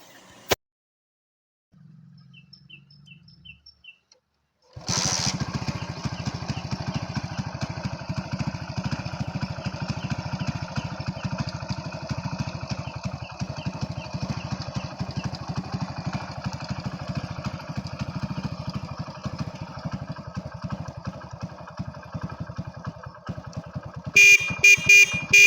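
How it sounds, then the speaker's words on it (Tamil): Hero Honda CD100 motorcycle engine starts after a brief quiet stretch and then idles steadily and loudly for about twenty seconds, nearby and alone. "நம்ம கையில் ஸ்டார்ட் பண்ணும்போதே பார்த்திங்கன்னா வண்டி பூ மாதிரி ஸ்டார்ட் ஆகுங்க."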